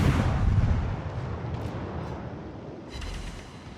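Warship guns firing in a naval battle video game, with a Fubuki-class destroyer among the ships; a loud, rumbling low boom opens and rolls on, then a second deep blast follows near the end.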